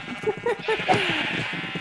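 Several short, wavering sheep bleats from Minecraft follow one another in quick succession, fairly close and clear, before fading into a steady background hum.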